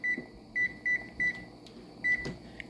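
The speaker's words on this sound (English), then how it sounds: "I'm about to set my timer on 5 minutes." A kitchen timer, likely on a microwave, being set to five minutes gives a run of short electronic beeps, five or six separate tones with uneven gaps, close and clear over a quiet room hum.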